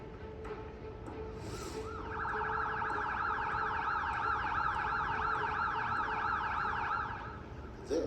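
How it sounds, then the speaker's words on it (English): A loud police siren cycling rapidly between two pitches in a steady high-low pattern, starting after a short quiet lead-in and sounding close by. "This is what a normal police siren sounds like"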